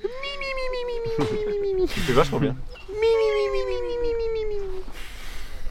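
A person imitating a cat, giving drawn-out meows and caterwauls in two bursts with a rustling scuffle between them, while someone briefly talks.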